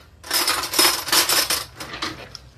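A spoon stirs a small amount of coconut milk topping in a bowl, giving a run of bright, rapid clinks and scrapes of metal on the bowl that fade toward the end.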